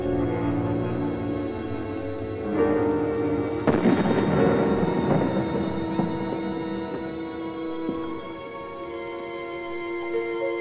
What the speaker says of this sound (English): where every window must be rattling with the sound of these guns